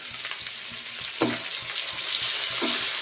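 Chopped tomatoes sautéing with pirandai (adamant creeper) in a pan for Chettinad kuzhambu, a steady close sizzle with a few sharp scrapes of a spoon against the pan and a low rhythmic knocking underneath.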